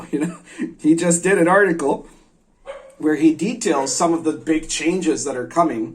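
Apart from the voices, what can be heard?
neighbor's dog barking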